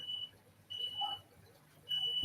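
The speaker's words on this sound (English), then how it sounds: "Would you please turn off that damn a smoke alarm?" An indoor smoke alarm sounds in short, shrill beeps, three high bursts separated by brief pauses, fairly faint against a quiet background.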